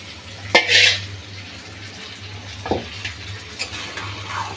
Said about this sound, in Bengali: সবজিগুলো আমি 2-3 মিনিট ভেজে নেব মশলার মধ্যে এভাবে নেড়ে নেড়ে